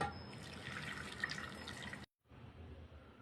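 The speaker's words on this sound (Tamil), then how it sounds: "சேப்பங்கிழங்க கழுவிக்கலாம்." Taro roots being rinsed under running tap water in a kitchen sink, a steady splashing flow that stops abruptly, then resumes more softly after a short gap.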